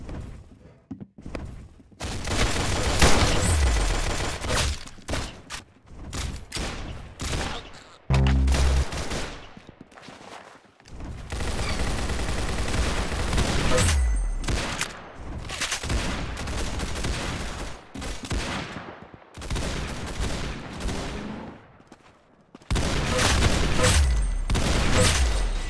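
Rapid bursts of video game gunfire, loud and close, with sustained automatic volleys, heavy booming shots and short pauses between salvos, ending in a final barrage.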